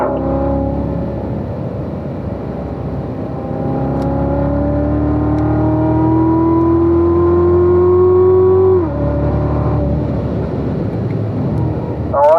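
A car being driven on a race track, its engine note climbing steadily through long smooth pulls and dropping back at an upshift, loud and close from inside the car, with no talk over it.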